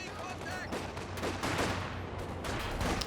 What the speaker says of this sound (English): Sniper getting some shots in now.